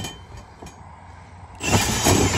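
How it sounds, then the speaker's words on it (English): Quiet clicks and hum, then a power drill suddenly whirs loudly and keeps spinning through the last second, drilling while mounting a light bar on a Kawasaki Mule Pro-FX utility vehicle. "you can drill the rest of them out"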